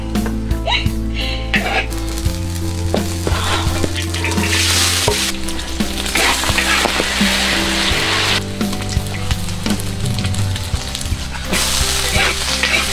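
Fatty pork and an egg frying in a pan, a loud, steady sizzle and crackle with scraping stirring strokes throughout, close up.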